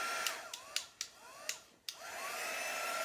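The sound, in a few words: heat gun drying chalk paint and ink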